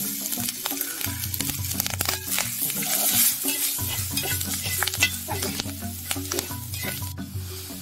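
Cooker-boiled snails with turmeric stir-fried in a pan for a Kerala snail fry, making a loud sustained sizzle broken by repeated scraping spatula strokes and clinks close up.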